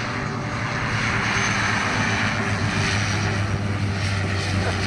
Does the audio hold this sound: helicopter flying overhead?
yes